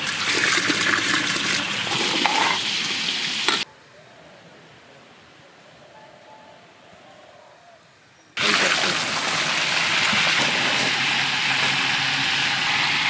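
Water poured into a large pot of chicken curry cooking outdoors in a village, a loud rushing pour that stops abruptly, a quiet pause, then resumes just as strongly.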